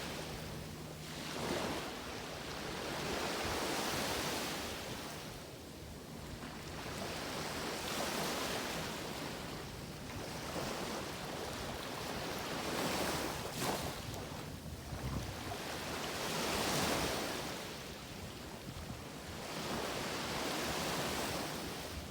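Ocean waves washing onto the beach at Carrabelle, Florida, in slow rolling surges of broadband rush with wind buffeting the microphone, fairly faint and without voices.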